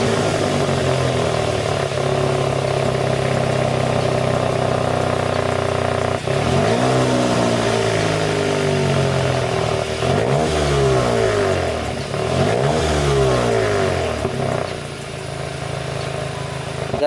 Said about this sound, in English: I'm gonna show you guys the exhaust, what it sounds like right now without the downpipe